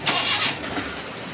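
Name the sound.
Suzuki Mehran car engine starting after exhaust silencer repair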